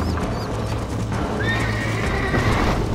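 A horse in the Red Dead Redemption video game neighs with a rising, drawn-out whinny while hooves clip-clop underneath, set against steady background game sound.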